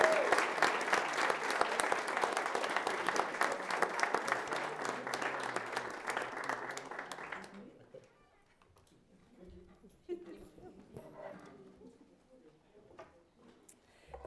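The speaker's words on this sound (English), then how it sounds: "Let's also give them a round of applause." Applause for teachers fills a board meeting room in Long Beach, a dense steady clapping that runs about seven seconds before fading out, leaving quiet room noise and faint murmurs.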